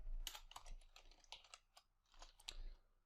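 Clicks of a computer keyboard during coding, typed in quick irregular bursts of keystrokes. The sound is close but quiet, with no talk over it.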